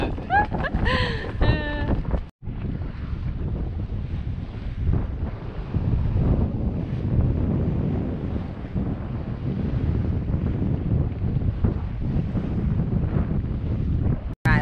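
Strong wind roars across the microphone aboard a heeling sailboat under an overpowering breeze, a loud continuous rush with buffeting gusts and water wash beneath, a few brief voice sounds at the start.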